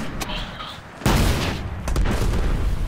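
A Golden Gun shot in Destiny's Iron Banner multiplayer mode, a sharp blast breaking in after a quieter stretch and followed by a booming rumble, with more gunfire cracking through the noisy background.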